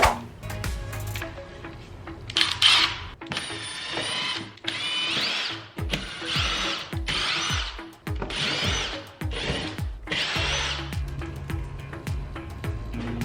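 A power drill whirs in a series of short bursts, removing screws from the back of a 3500-watt Predator generator, stopping and starting repeatedly with clicking and ratcheting between runs, close by.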